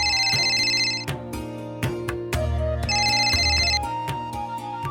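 Melodic electronic phone ringtone plays loudly on an incoming call, a repeating tune with bell-like high tones and a steady beat, cycling twice with no voices over it.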